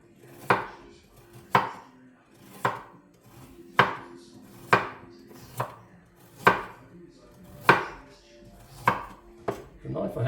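A knife thinly slicing food on a cutting board, about ten distinct, evenly spaced chops in a steady rhythm, close and crisp, with no voices.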